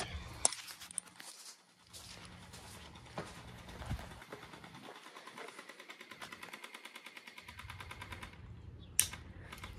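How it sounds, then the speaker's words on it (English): Video-game gunfire rattles in fast, even bursts, a dense mechanical stutter that runs almost continuously at moderate volume with a few sharper cracks standing out. "Hey, sir, you need to stop shooting that gun."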